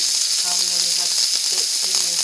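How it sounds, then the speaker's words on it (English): Steady bright sizzling hiss of a burger patty frying in a hot pan, constant and close, with faint tonal clinks underneath. "Listen to that sizzle."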